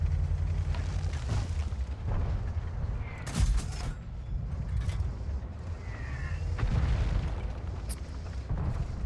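Artillery shell explosions in the World of Tanks video game, heavy booms over a constant low tank rumble, with one sharp loud blast standing out near the middle and a few lighter impacts after.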